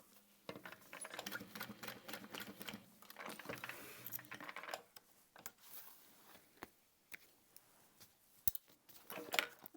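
A sewing machine bastes through a seam allowance on a crossbody bag, running in short, faint, irregular bursts of rapid stitching separated by pauses and small handling clicks.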